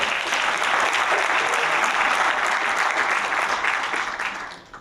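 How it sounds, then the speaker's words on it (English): An audience at an Essex County College event for the visiting King of Ghana breaks into dense, steady applause that fills the room evenly before trailing off at the end. "Let's give him a round of applause."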